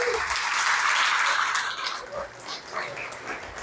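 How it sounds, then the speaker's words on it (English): Applause for sponsors at a small business award reception, a room of clapping that swells early then thins out and fades, with some voices mixed in. "Let's give them a round of applause, please."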